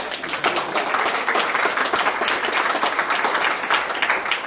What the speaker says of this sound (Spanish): Las palmas sean para el Señor.